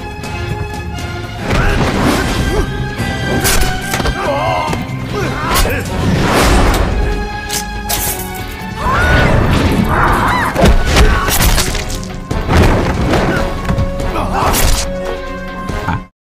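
Fight sound effects from a mutant film with half-lizard creatures brawling: a dense, loud run of thuds, crashes and whacks with whooshes, packed tightly over a music-like bed throughout.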